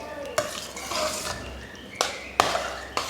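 A spoon stirs thick sweet pongal (sakkarai pongal) in a metal pot, scraping and clinking against the sides in several sharp knocks over a soft sizzle, close and clear, with no talking.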